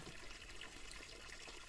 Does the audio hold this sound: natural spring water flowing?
yes